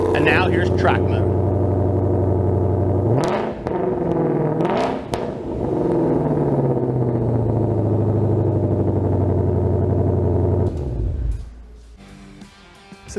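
Loud, close exhaust from a 2020-or-later Ford Mustang GT500 with an MBRP resonator delete in track mode: a rough idle, then several quick revs that climb and drop back, before the engine shuts off near the end.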